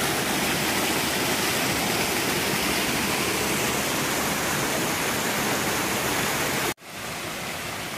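Flowing stream water on a hiking trail rushes in a loud, steady, broadband wash close by, then drops away abruptly near the end before resuming slightly quieter.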